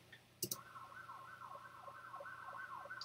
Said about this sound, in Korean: 폴리스카 사이렌 패싱